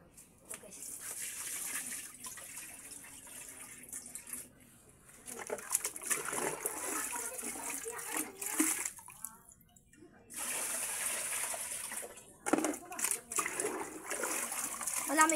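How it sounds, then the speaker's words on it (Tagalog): Water poured into a container holding fish, a splashing, gurgling pour in several bursts with brief pauses, fairly close, with faint background voices. "Lagyan na natin yung tubig."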